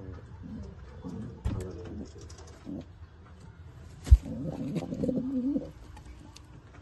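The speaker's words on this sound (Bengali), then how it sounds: "দারুণ পায়রা গোপালদার বাড়ির কালেকশন।" Pigeons from a home loft collection coo softly in low, repeated phrases, fairly close but quiet, with a single sharp thump partway through.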